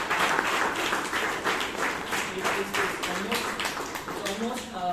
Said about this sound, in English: So can we give a round of applause to the founder of the Toastmasters Club?